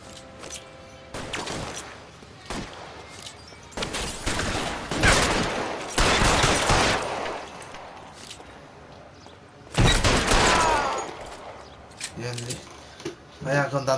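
Gunfire in the video game L.A. Noire, several bursts of loud shots spread across the scene with quieter gaps and thuds between them, mixed with game dialogue.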